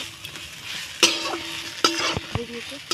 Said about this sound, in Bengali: এখন আমি দিয়ে দিচ্ছি এই ভাজা লতিগুলো এর মধ্যে দিয়ে আবার এখন সুন্দর করে ভেজে নেব।